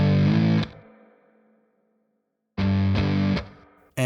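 Electric guitar chords run through a Silver Llama amp with spring reverb and slap delay, heard alone and loud: two short distorted bursts, each leaving a reverb tail that fades away before the next strum.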